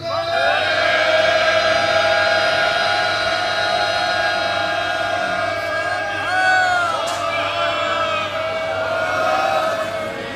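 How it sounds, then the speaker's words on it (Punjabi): A Sikh congregation at Takht Sri Harimandir Ji, Patna Sahib, shouts a jaikara together, a loud, sustained massed cry of many voices that swells and holds for several seconds. "ਇੱਕ ਜੈਕਾਰਾ ਸਾਰੀ ਸੰਗਤ ਮਿਲ ਕੇ ਵੱਡਾ ਗਜਾ ਦਿਓ"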